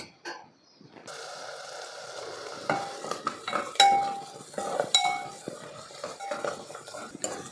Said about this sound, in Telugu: ఇక్కడ చక్కగా కలుపుకోవాలండి. ఆనియన్స్ బ్రౌనిష్ వచ్చిన దాకా కలుపుకోవాలి.